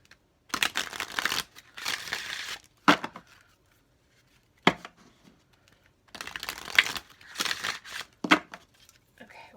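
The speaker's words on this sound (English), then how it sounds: "Okay, one more shuffle." A deck of Queen of the Moon oracle cards is shuffled in several crisp bursts of riffling and flicking, close up, separated by short quiet pauses and a few single sharp taps.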